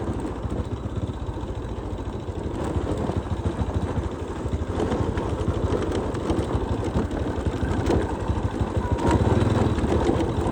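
A motorcycle rides along a mountain road into a village near the border, its engine droning in a steady, close, continuous throb with slight rises in effort.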